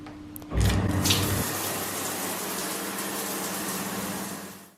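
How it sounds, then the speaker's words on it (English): A shower bursts on and runs in a steady, loud hiss of falling water close by, continuing without pause until the end with no voices. "the first thing I do when I got back is jump in the shower"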